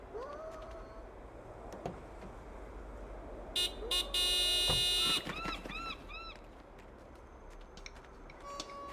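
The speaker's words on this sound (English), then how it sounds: "Nico, could you honk the horn again?" In the Broken Sword 5: The Serpent's Curse video game, a car horn honks in several short blasts, including one long loud blare, amid game ambience with ticking and scattered clicks.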